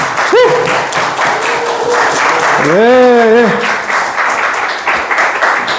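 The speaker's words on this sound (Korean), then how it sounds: "우리 큰 박수로 격려하고 맞이하도록 하겠습니다" An audience at a literary book concert applauds to welcome an author to the stage: steady, fairly loud clapping throughout, with a speaking voice briefly rising over it.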